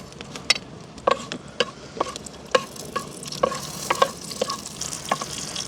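Mustard, fenugreek and fennel seeds fry in hot coconut oil, with a steady sizzle broken by sharp popping crackles from the seeds, some of them loud and close. No one speaks.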